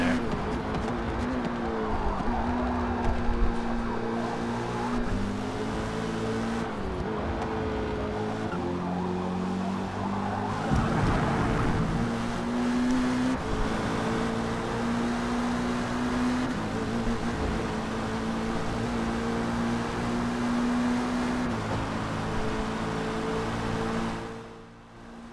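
Race car engine from a GT endurance racing video game on a qualifying lap, a steady high drone rising and falling with gear shifts, continuous and loud throughout, with faint talk over it, cutting off near the end.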